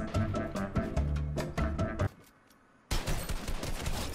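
Gunfire in the Fortnite video game, with a rapid burst of shots, a brief lull and then another dense volley, loud and close amid game noise.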